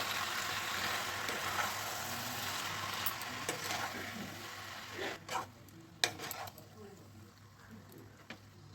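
Mutton with spices scrapes and clatters in a pan as it is stirred, with a faint sizzle underneath and a few sharp clinks of the spoon. A person's voice is heard now and then.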